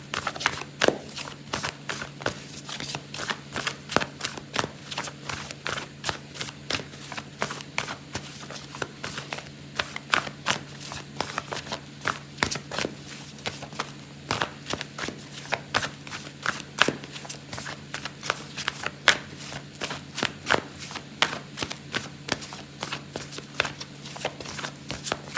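Oracle cards are shuffled steadily for a long stretch, a dense run of quick papery riffles and taps close by, with no talk.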